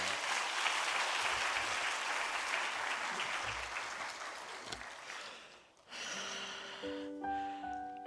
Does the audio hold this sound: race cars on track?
no